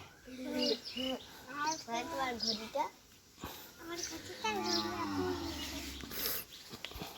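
A young heifer being readied for Eid sacrifice moos in low drawn-out calls close by, with people talking over and between the calls.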